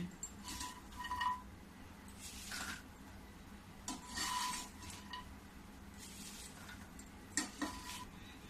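Roasted fox nuts (makhana) being broken by hand over a plate, giving soft crisp crunches and rubbing rasps in several brief bursts, close and fairly quiet.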